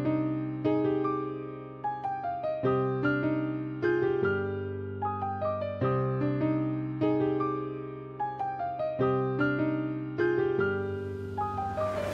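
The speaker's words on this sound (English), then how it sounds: "the Maverick sounds like this" A Maverick Kontakt piano bank plays a repeating chord-and-melody pattern, full sustained piano tones with a deep bass layer, steady and upfront with no voices.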